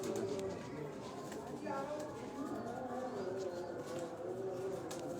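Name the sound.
pigeons cooing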